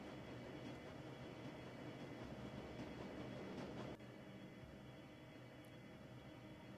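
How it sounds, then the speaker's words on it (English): A train speeds along rails in the video game Shadowrun Dragonfall, giving a steady, dense rumble with faint clicking over the tracks. The sound is continuous and fairly quiet and dips slightly partway through. "The train is speeding towards the Kriz Bazaar station."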